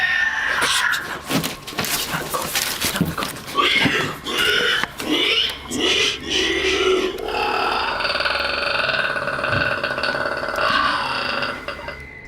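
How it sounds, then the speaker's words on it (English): An unseen creature in the dark lets out harsh warning cries mixing pig-like squeals with deep enraged roars and growls, loud and close, in repeated bursts lasting several seconds. "It sounds like a mix between a squealing pig and some sort of enraged dinosaur."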